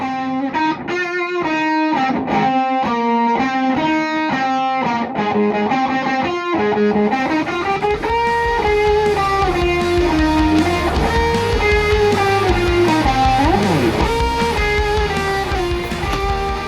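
Electric guitar lead tones for a band's solo, shaped with distortion and effects such as a short delay and room reverb; a loud, continuous melodic line rings out over backing music without talking.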